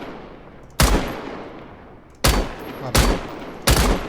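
A PK machine gun fires in the video game Badlanders: four loud separate bursts, each a sharp blast trailing into a decaying tail, with one word spoken briefly.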